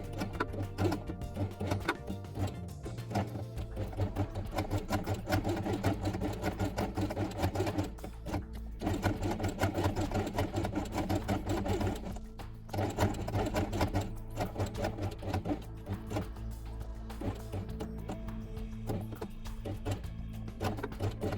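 A sewing machine stitching fabric pieces for a doll house quiet book, running continuously with a fast rhythmic needle chatter over a low motor hum, close and steady throughout.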